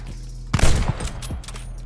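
Sniper rifle firing in the game Call of Duty Vanguard: a single sharp, loud gunshot crack with a short echoing tail and a faint follow-up thump, close and alone.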